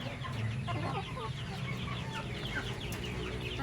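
Kabir chickens cluck continuously and close by in a farm pen, a busy overlapping chorus of short clucks with no talking.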